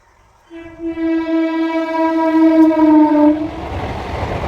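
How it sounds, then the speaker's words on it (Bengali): A train horn sounds loudly for about three seconds, a strong steady chord, followed by the rushing rumble of the train passing close by. "আর পাশ দিয়ে যে ট্রেনগুলো যাচ্ছে"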